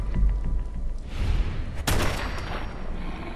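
Gunfire in the video game Fallout 4, heard as a single sharp, loud burst of shots partway through, over a low, rumbling game background with no talking.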